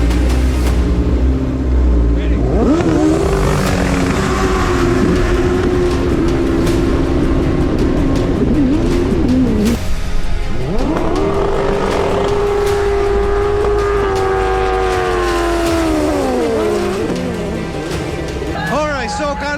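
Jet skis roar through a drag race at a HydroDrags world championship, loud engine whine rising and holding in two long pulls with talk over the top throughout.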